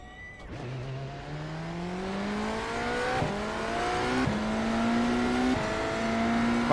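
Updated BMW GTP race car engine in iRacing, a sustained high-pitched whine that climbs through several upshifts with brief dips between gears, loud and up close.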